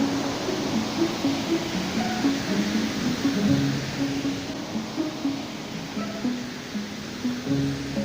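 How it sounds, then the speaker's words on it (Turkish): Kürekli Dere waterfall near Bursa, flowing at its fullest, gives a steady rushing roar of water heard at moderate distance, constant and even throughout without voices. "Kürekli Dere Şelalesi ve suyun en bol bulunan zamanı."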